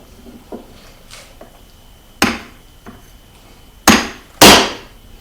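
Hammer blows driving a metal punch into a round metal pipe in a garage workshop: a few light taps, then three sharp, loud strikes, the last two close together, with no talking.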